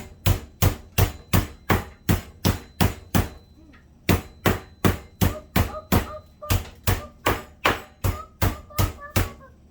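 Pork chops under a cover being pounded with a meat mallet to tenderize them. The blows are loud, close and heavy, about two per second in a steady rhythm, with one brief pause partway through.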